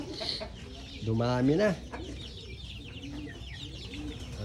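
Chickens, including black-feathered birds, cluck in a provincial backyard poultry pen, with a louder call in the middle over low, steady farmyard ambience and a short spoken phrase.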